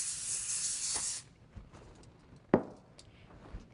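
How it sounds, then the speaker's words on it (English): A steady hiss of cooking spray sprayed onto a sheet of aluminum foil lasts about a second, followed by quiet crinkles and a light tap of the foil. "Spray 1 sheet of aluminum foil with cooking spray."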